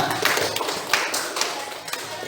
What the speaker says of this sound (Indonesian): Tepuk tangan untuk Aura.